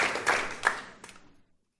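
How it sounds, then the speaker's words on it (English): A small audience gives a short burst of scattered hand claps, a few distinct claps close together that quickly thin out and fade to silence. "but we need applause"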